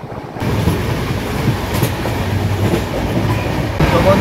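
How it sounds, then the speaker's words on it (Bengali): Express train heading to Jammu, heard from on board as a loud steady rumble with rhythmic wheel clatter over the rails throughout, and no one speaking. "তো আমাদের এক্সপ্রেস ট্রেন জম্মুর তাই ছুটেছে দেখতে পাচ্ছ।"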